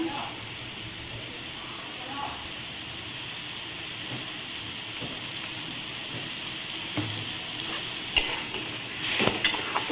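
Ground spices with coriander powder and salt are sautéed in a pan for an elephant-foot yam and prawn dish, a faint steady hiss with light scraping, then louder clinks and stirring near the end.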